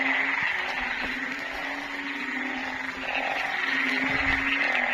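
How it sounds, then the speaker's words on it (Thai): Narrow-mouthed frogs croak steadily after rain, a dense chorus of repeated calls layered with a continuous insect-like drone, moderately loud and close, with no voices. "เสียง เสียงอึ้งหอก ออกแงกออกแงก"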